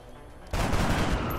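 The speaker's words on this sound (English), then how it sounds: "There's heavy fire in this zone." Heavy gunfire in the video game X-COM: Long War erupts suddenly and holds as a dense, continuous roar of overlapping shots, loud and close.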